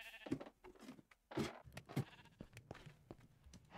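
Sheep in a modded Minecraft survival world bleat several times in short, sharp bursts, fairly close and loud, with no talk over them.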